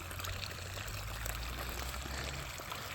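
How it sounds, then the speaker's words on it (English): Storm water running out of a culvert after an atmospheric river deluge, a soft, continuous rushing and trickling stream heard faintly from a short distance. "this is the water that's coming from the culvert"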